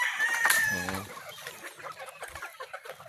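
Gamefowl chickens on a game farm make a loud, close rooster-like call, then softer scattered clucking with faint background noise.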